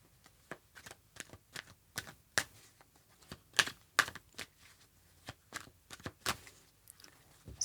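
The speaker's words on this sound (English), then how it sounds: "Let's do one more shuffle." Crisp clicking snaps of tarot cards being shuffled, irregular taps in quick clusters, close and fairly quiet.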